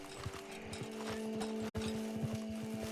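Horse hooves clip-clop in a video game, a steady close trot of quick rhythmic beats running under sustained musical tones.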